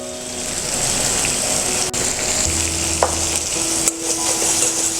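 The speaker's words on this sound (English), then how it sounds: "let the turmeric powder cook with the tomatoes" Chopped tomatoes with salt and turmeric powder sizzle steadily in a hot pan, a continuous close frying hiss with a couple of faint stirring scrapes and no talking.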